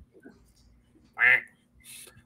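A single loud duck quack sound effect rings out clearly, followed a moment later by a fainter second quack, over a quiet background.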